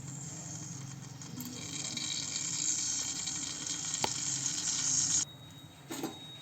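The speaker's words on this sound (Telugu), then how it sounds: "కొద్ది నూనె పోయాలండి అలానే నెయ్యి కొద్దిగా" Oil and a little ghee heating in a pressure cooker for vegetable biryani: a soft, continuous sizzle that grows slightly louder and then drops off near the end, with a brief crackle afterward.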